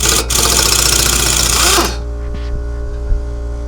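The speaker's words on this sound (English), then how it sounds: "Impact gun it" An impact gun rattles hard on brake caliper bolts in a loud burst of nearly two seconds, then stops, leaving a quieter hum with a few small clicks and taps.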